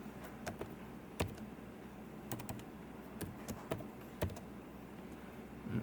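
A search being typed on a computer keyboard, heard as quiet, irregular key clicks and taps with a few louder strokes, faint and close against a steady low room hum.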